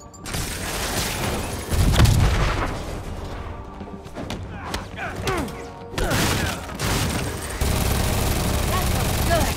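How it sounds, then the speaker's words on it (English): Grenade blasts and gunfire in Marvel's Spider-Man Remastered, a few heavy booms and crackling shots broken by mechanical clatter, loud and close, with voices talking between the bursts. "Grenade incoming!"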